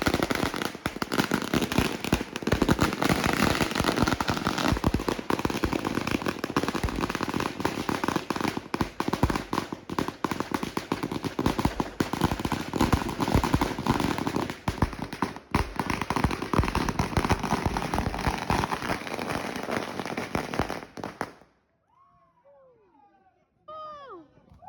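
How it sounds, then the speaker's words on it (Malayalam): Firecrackers bursting during a New Year midnight celebration, a dense, loud, continuous barrage of crackling pops and bangs lasting about twenty seconds, with crowd voices mixed in, then cutting abruptly to near silence. "12 മണിയാകാൻ കാത്തു നിൽക്കലാന്ന് പടക്കമൊക്കെ പൊട്ടിക്കാൻ"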